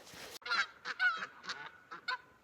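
Canada geese honking outdoors by a lake on a winter camping trip, a burst of several nasal honks in uneven succession, fairly faint and distant, with no talk.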